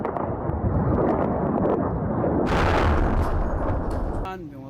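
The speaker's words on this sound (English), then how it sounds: "its capital city, Khartoum, buried under a relentless string of aerial bombardment" Aerial bombardment over Khartoum, Sudan: dense, loud rumbling explosions and booming impacts run continuously, with a sharper burst midway, ending with a voice briefly heard.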